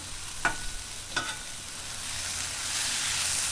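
Pork fried rice and vegetables sizzle on a Blackstone 22-inch griddle, a steady close hiss broken early by two sharp scraping stirs of a spatula, the frying swelling louder toward the end; no voices.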